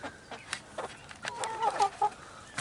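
Hens cluck in a backyard coop among roosters at morning feeding, a few soft, scattered clucks close by, fairly quiet with little else around.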